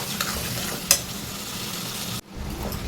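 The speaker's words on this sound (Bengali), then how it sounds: "খাসির মাংস তো একটু বেশি করে কষাইতে হবে" Mutton with potatoes stir-fried in a pan for curry, a close, steady sizzle with occasional scraping stirs and a sharp clink, briefly dropping out before resuming.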